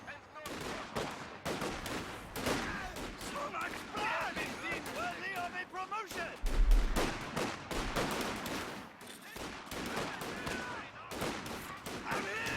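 Rifle fire in a Company of Heroes 2 one-on-one match, crackling volleys of shots scattered throughout with a heavy boom midway, under a caster's continuous commentary.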